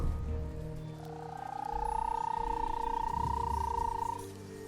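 Toads in Hogwarts Legacy give a long, droning croak that rises and holds steady for a few seconds, heard close over quiet background rumble.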